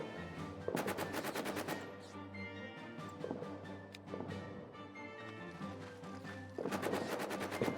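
Heavy machine gun fire in a WWI trench video game, sustained rattling bursts of rapid shots with pauses between volleys, loud and dense over a low rumbling background, no talking.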